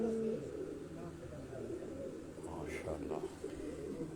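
Pigeons cooing on a rooftop in the evening, soft repeated low coos close by over a murmur of background voices and distant ambience.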